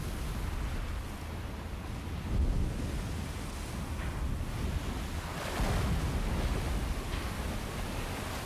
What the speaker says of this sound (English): the waves are building up